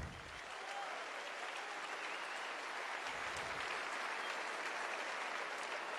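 A concert audience at a jazz trio performance applauds the drummer, a dense, even wash of clapping from many hands that builds quickly and sustains at a moderate level for several seconds.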